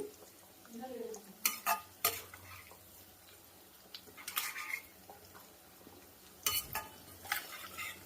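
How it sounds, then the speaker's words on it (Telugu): Prawns and eggs frying in oil in a pan, with soft background sizzle broken by sharp clanks and scrapes of a utensil stirring against the pan, plus occasional faint speech. "ఇవి మంచి కలర్ వచ్చే వరకు ఫ్రై చేసుకుందాం"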